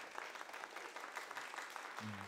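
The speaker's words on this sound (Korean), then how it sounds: "지금 많은 분들이 지금 박수로 격려하고 계시는데" Sustained audience applause at a talk concert held at a national history museum, a dense, steady patter of many hands clapping throughout, with a low hum entering near the end.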